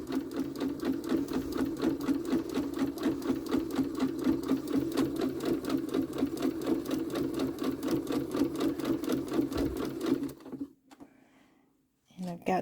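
A sewing machine stitches fabric garland at a 2.5 stitch length, a rapid, even mechanical chatter running close and steady for about ten seconds before stopping, followed by faint handling noises.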